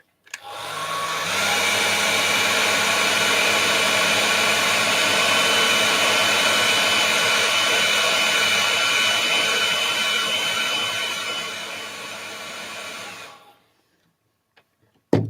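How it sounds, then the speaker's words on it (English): Hair dryer blowing to dry wet paint, a loud steady whooshing roar that starts abruptly, runs unbroken for about thirteen seconds, then cuts off, followed by a faint click. "I'm just going to hair dry, should I say, this off just quickly."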